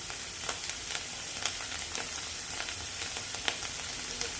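Chicken pieces and onions fry in a hot pan for a special roast chicken dish, giving a steady close sizzle with scattered crackles and pops throughout, and no talking.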